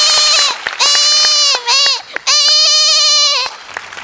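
A performer's voice imitates a lamb bleating on a comedy stage show, several wavering, high nasal bleats in quick succession, loud and close, with brief gaps between calls.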